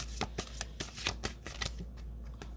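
A deck of tarot cards is riffled and shuffled close by, producing quick rapid flutters and soft slaps in an uneven rhythm that lasts a couple of seconds.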